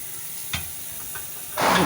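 Garlic frying in a pan for garlic rice, a soft sizzle with a couple of brief clinks or stirs, then a louder burst of hissing near the end.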